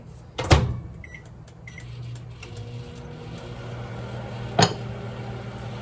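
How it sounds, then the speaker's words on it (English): A steady low electrical hum of a microwave running, with a couple of sharp clunks and faint beeps near the start. "I'm gonna melt it in the microwave."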